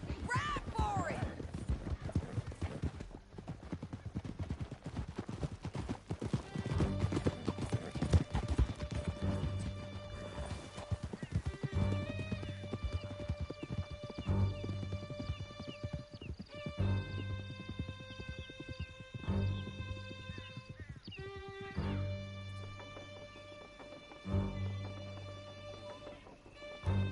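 Horses galloping in the western video game Red Dead Redemption 2, a continuous drumming of hooves with crashes and tonal game sounds layered over it, people talking throughout.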